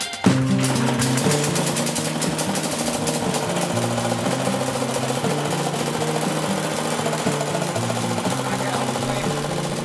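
A repaired Bernard W110 stationary engine runs steadily with a fast, even mechanical chugging and clatter, loud and close, holding a constant pace throughout.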